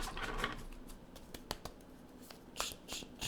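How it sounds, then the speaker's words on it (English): Tarot cards being shuffled by hand in quiet, close riffles and flicks that come in short, uneven bursts. "I don't know why my cards don't want to shuffle."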